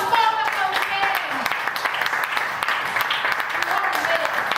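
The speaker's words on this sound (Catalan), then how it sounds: "Molt aplaudiment!" A theatre crowd applauding steadily at a referendum rally, dense clapping that keeps up without a break, with a few voices mixed in.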